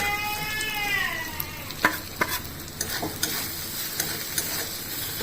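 Ground coriander, cumin, Kashmiri chilli, turmeric and garam masala sizzle in a pan for kidney bean curry, a steady close frying hiss broken by a few sharp stirring scrapes, with no talking.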